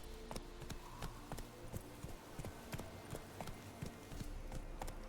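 Roach the horse's hooves clop in a quick, regular rhythm in Witcher 3, close and distinct, with a faint background hum and no talk.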